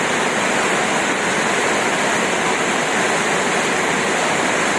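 Heavy rain pours steadily during Thailand's rainy season in Surin Province, with floodwater running across a road and blocking a lane; a dense, constant roar of falling and rushing water, loud and close, with no voices.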